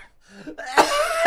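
A person coughing, two sharp raspy bursts close to the microphone separated by a short pause, preceded by faint quiet tones.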